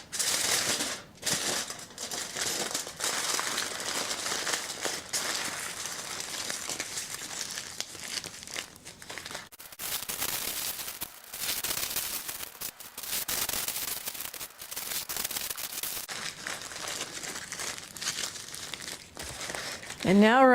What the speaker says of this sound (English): Now I have foil here. I'm going to wrap each one in foil,